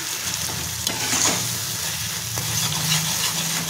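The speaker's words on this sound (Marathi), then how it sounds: "मीठ टाकून घेते आणि आपल्याला ते परतून घ्यायचं" Tomatoes with salt sautéing in a pan, a steady close sizzle with occasional scraping stirs across the whole stretch, no voices over it.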